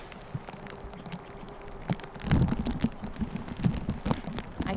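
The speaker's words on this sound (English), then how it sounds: "It's starting to rain pretty hard." Heavy rain falls across a golf course, a dense steady patter with scattered louder drops striking close by, swelling in intensity partway through, with no talking.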